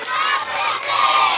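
A loud live crowd at a Jamaica Day reggae performance roars and cheers together, a dense, sustained mass of voices close at hand.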